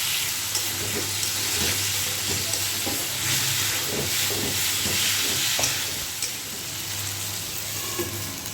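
Malabar spinach with potato and fish head cooking in a pot on a stove, giving a steady broadband sizzle and simmer with a low hum underneath, close and continuous with no talking.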